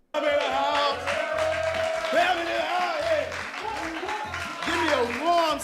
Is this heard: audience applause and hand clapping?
yes